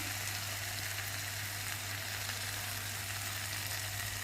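Vegetables fry in a pan with chili garlic sauce, a steady, dense sizzle and crackle that stays even and continuous throughout.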